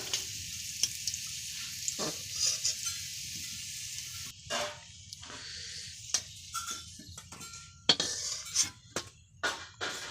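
Potatoes for aloo bhaja fry in hot oil with a steady bright hiss, punctuated by repeated sharp clinks and scrapes of stirring, close up and with no talk.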